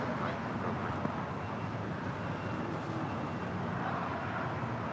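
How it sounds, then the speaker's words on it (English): Delta Air Lines Boeing 757-200 jet landing at LAX, arriving from Guatemala City, heard as a steady, broad engine roar with wind-like rush held at an even level throughout. "Delta Airlines flight 1903 coming in from Guatemala City. It's a 757-200."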